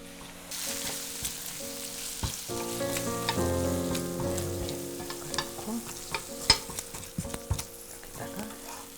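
Chili powder stirred in a pan with the heat switched off for a Korean soft tofu stew, a faint sizzle under scraping and clinking of a spoon against the pan, with a few sharp knocks near the end.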